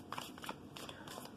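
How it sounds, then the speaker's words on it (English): Tarot cards being given a quick shuffle by hand, a soft, brief riffle of papery flutters close up and quiet, lasting just over a second. "I'm just giving it a quick shuffle, and I'm going to cut the cards now."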